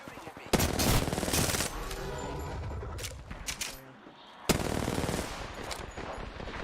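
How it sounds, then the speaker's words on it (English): Rapid bursts of automatic gunfire from enemies in a first-person shooter video game, loud and dense, with sharp heavy volleys at the start and again near the end. "The enemies are shooting at me."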